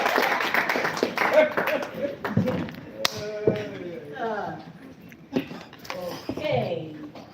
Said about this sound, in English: let's clap for one